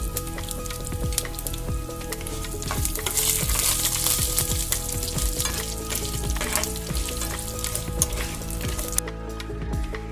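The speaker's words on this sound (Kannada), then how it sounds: "ನೋಡಿ ಚಟಪಟ ಅಂತಿದೆ. ಈಗ ನಾನು ಇದಕ್ಕೆ ಒಣಮೆಣಸಿನ್ಕಾಯಿ ಹಾಕೋತಾ ಇದ್ದೀನಿ." Fenugreek seeds and dried red chillies spluttering in hot oil in a pan, dense continuous crackle and sizzle with scattered sharp pops and occasional stirring, close and fairly loud.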